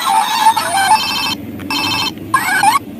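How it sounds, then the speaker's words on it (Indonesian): A Hello Kitty toy telephone on a toy ice cream cart rings loudly and close, in electronic trilling bursts separated by short pauses. "Ada gerobak es krim dan telepon Hello Kitty."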